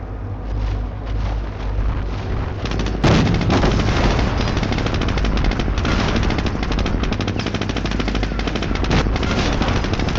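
Sustained machine-gun and rifle fire in the World War II strategy game Company of Heroes, rapid overlapping bursts that swell louder after a few seconds, with artillery-like booms during an assault on an enemy HQ.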